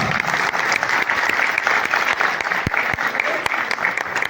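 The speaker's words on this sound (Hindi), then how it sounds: "इनके लिए भरपूर तालियां होनी चाहिए।" Theatre audience applauding at a stage play's team introduction, a dense steady clatter of many clapping hands with a few sharp, louder claps standing out near the end.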